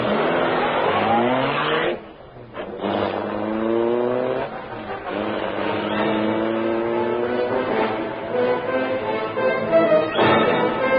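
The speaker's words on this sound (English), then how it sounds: "The great car roared into life." The Black Beauty car's engine roars to life and revs hard, climbing through gears as it speeds away, loud and close, with a brief drop before rising again in an old radio drama.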